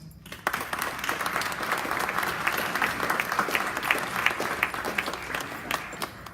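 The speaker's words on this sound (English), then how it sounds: "Please allow us to give you a round of applause." Staff audience applauding at a back-to-school welcome event, a steady wash of many hands clapping with no talk, sustained evenly throughout.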